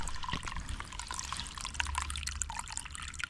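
Hand dipped into cold water in an abandoned quarry pond, a faint run of light splashes and trickles over a low outdoor background, with no talk.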